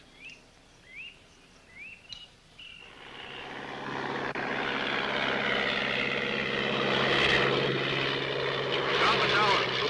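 A propeller airplane flies over a river in the Peruvian jungle. Its engine drone swells in from near silence and holds as a loud, steady roar. Bird calls are heard before it, and a voice speaks over it.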